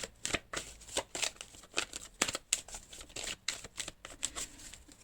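Tarot cards being shuffled and drawn in a rapid series of crisp riffling flicks and slaps, close and fairly quiet, with no voices.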